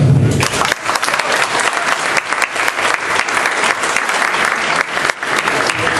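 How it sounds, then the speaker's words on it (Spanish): Sustained, loud applause from a large seminar audience, a dense wash of clapping that continues steadily throughout. "la doctora Jacqueline Ángel Juan, para quien pide un fuerte aplauso."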